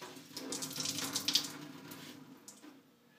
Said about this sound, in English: then we're going to twist and squeeze that water out.